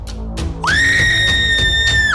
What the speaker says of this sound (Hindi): बाघ को देखकर निर्मला डर जाती है और जोर से चिल्लाती है।